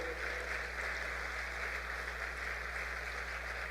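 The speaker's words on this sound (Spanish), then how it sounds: "Denle un aplauso al que todo lo puede" A church congregation gives a steady, even round of applause, sustained clapping at moderate level over a faint low electrical hum.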